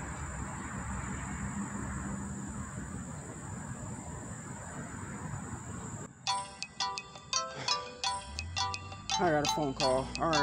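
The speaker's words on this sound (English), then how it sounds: "I got a phone call." A mobile phone ringtone plays an electronic melody of short repeated beeping tones after several seconds of steady background noise inside an abandoned grocery store in Flint, Michigan, with a voice occasionally heard.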